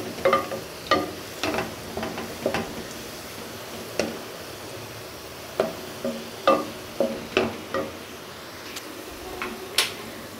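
Onions browning in oil in a pan for a beef nihari, with soft frying sizzle and repeated stirring scrapes and ticks at irregular intervals, moderately quiet with no talk.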